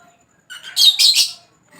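An opaline personata lovebird hen in a flight cage gives a short burst of chirps and squawks, fairly close and clear, with no talking over it.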